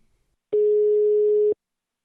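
A single steady telephone call tone sounds loud and clean for about one second, heard while placing a phone call, with silence before and after.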